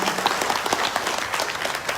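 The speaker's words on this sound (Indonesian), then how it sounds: "Tepuk tangan buat Bapak Ibu semuanya" An indoor seminar audience breaks into brisk applause, many hands clapping in a dense, even burst that fills the room.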